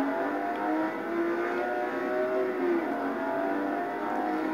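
A Bugatti engine in a racing video game holds a loud, continuous revving drone with wavering pitch, close and steady throughout, with no voices.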